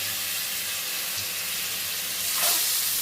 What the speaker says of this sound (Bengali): এরপরে মাছগুলোকে ছেড়ে দিচ্ছি মাছগুলো অল্প করে ভাজা হবে